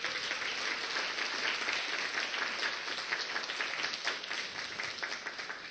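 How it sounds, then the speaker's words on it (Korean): A church congregation at a youth worship service bursts into dense, continuous clapping, bright and even throughout the short stretch with no voices breaking through. "우리 자축이 박수 한번 합시다."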